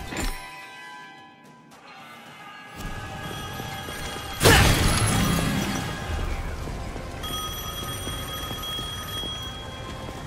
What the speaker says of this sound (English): Phone still works.